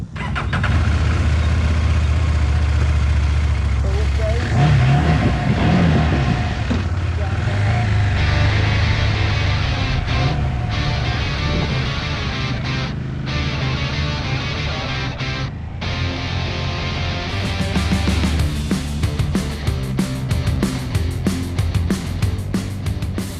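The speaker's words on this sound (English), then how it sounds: "This will be the touring test ride, and really more what this bike is designed for." An Ibex 450 motorcycle on a touring ride drones steadily at a loud, constant engine pitch with shifting rumble and wind, continuous throughout with no break.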